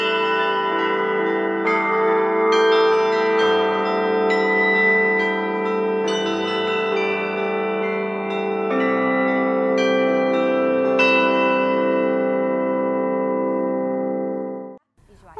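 A church bell rings out in a series of bright, resonant strikes, each tolling note layered over a long shimmering decay, steady and clear before fading to silence at the end.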